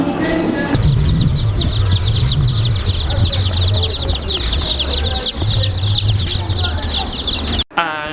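Chickens cluck and squawk continuously up close, a busy overlapping chatter of hens with a low background hum throughout.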